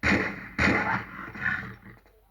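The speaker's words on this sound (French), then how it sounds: "Alors ici, nous avons un tigre qui doit arriver normalement." A tiger roars in a video game, two loud full-bodied bursts followed by a weaker third that trails off, with no speech over it.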